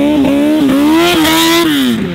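A Yamaha R6 sport bike on homemade studded tires screams across ice, its high engine note rising in repeated revs with brief dips between shifts or throttle blips, loud and close throughout.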